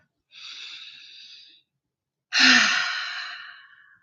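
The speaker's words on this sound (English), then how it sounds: "Pause tapping, take a deep breath." Two deep breaths during an EFT tapping session, a long steady inhale followed by a pause and then a stronger, louder exhale that fades out, close and alone with no talk.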